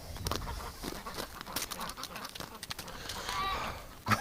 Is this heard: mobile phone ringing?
no